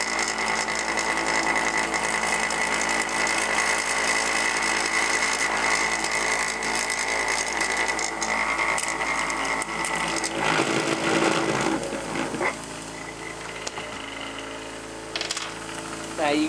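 A Lyman 2500 Pro Magnum Turbo Tumbler runs with its lid off, giving a steady loud mechanical rattle and whir without a break. Around the middle the pitch shifts slightly and extra clattering comes in.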